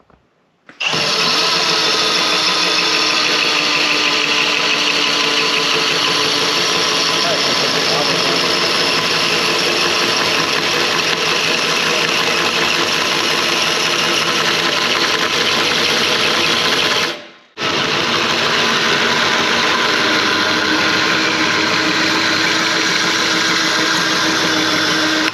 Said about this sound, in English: now the notch is grinded down and cleaned up